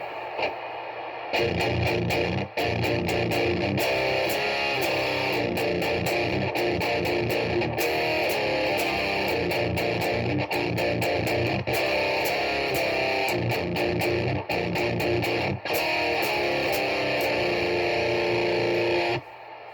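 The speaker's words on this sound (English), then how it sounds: "using a overdrive pedal and distortion, not always the best, but when you're using compressor and a noise gate" Electric guitar played through an overdrive pedal, distortion, a compressor and a noise gate, giving a dense, saturated, sustained tone that plays continuously and loudly for nearly twenty seconds, with short gated drops in between.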